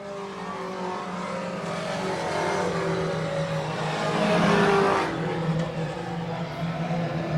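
Four-cylinder pro race cars at Brackett's Market roar past together, a loud, sustained engine drone that swells as the pack closes in around the middle and then eases off.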